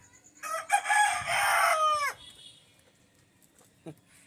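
A rooster crows once on a rooftop among hens, a loud, close call held for about a second and a half before falling away, with a faint cluck later.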